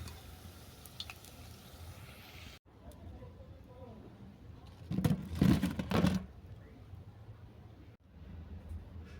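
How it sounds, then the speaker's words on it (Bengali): Banana flower fritters (mochar bora) seasoned with chicken masala fry in a pan of oil, giving a quiet, steady sizzle that swells into a louder, crackling burst midway before settling again. "বাকি যেগুলো আছে সেইগুলো আমি একইভাবে ভেজে নেব"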